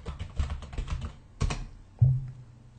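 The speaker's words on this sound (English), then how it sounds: "If you know the full username, you just type that in." A username is typed on a computer keyboard: a quick run of close key taps, then a pause, one sharper keystroke and a final thud-like press.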